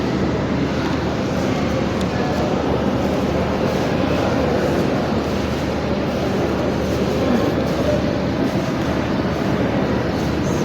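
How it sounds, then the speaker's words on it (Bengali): Kamalapur railway station platform, a loud, steady broadband rumble of trains and station noise that holds unbroken from start to end. "তারপর তো কমলাপুর স্টেশন আইসা পড়লাম"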